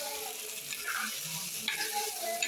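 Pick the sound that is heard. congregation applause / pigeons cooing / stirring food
stirring food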